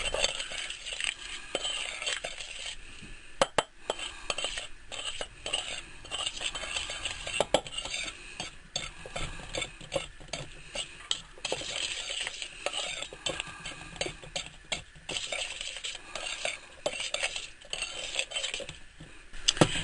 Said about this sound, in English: I'm going to mix these up together really well.